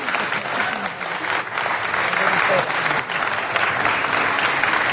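Audience applause fills a city council meeting, a dense, steady round of clapping lasting several seconds without letting up, loud and close.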